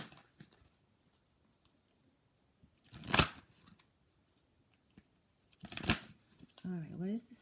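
Crystal Angels oracle cards are shuffled in two quick riffling bursts, close and crisp, separated by quiet pauses, with a brief voiced murmur at the end.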